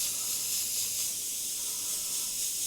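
An airbrush spraying paint while blending clouds in a moonlit landscape painting, a steady close high airy hiss running unbroken throughout.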